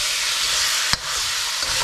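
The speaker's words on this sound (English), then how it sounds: "If there's a little bit of steam and a little bit of boiling, it's not going to be an issue for this type of cooking." Thai green curry ingredients sizzle and bubble in a crowded pan, giving a loud, steady frying hiss close by, broken by one sharp knock of a utensil midway.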